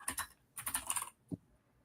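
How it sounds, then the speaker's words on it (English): Someone types quickly on a computer keyboard during a live coding session, making two close bursts of rapid key clicks followed by a single heavier keystroke, with no talk. "so much typing."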